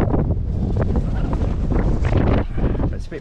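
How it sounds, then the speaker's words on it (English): Strong, blustery wind buffets the microphone on the summit of Tinto Hill in South Lanarkshire, a steady loud roar with gusts throughout and a voice faintly beneath it. "A bit blustery here today."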